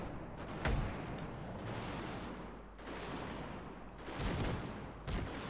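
Airship guns fire in Airships: Conquer the Skies over a continuous rumbling roar, with several loud cannon blasts scattered across the stretch, including one early and two near the end.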